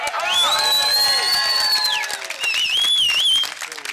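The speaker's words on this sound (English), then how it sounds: "Give yourselves a round of applause." A crowd at an Occupy Tucson protest rally applauds and cheers, with high whoops and shouts ringing out over steady clapping, fading near the end.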